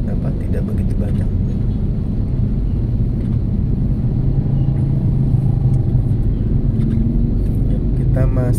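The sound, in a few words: traffic jam at Bekasi Timur toll exit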